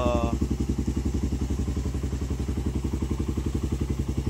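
A motorcycle engine fitted with a 30mm Kenada racing carburetor idles close and loud, its steady rapid putter holding an even rhythm throughout.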